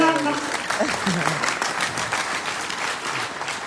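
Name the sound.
audience clapping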